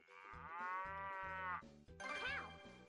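A cow moos twice in a children's animal-sounds game: a long, loud low moo, then a shorter second call, over a bouncy musical backing with no speech.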